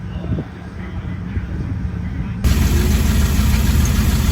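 A car engine idles fast and high because of a sticking fast idle cam on the carburetor, a steady loud rumble that jumps louder partway through, with faint talk in the background early on.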